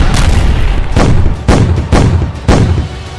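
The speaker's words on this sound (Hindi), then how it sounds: "गाजा में रात का एक एक मिनट नए धमाके के साथ गुजरता है" Heavy bomb blasts from airstrikes on Gaza at night, five loud booming impacts about half a second apart, each a sharp burst rolling into a low rumble, with no voices.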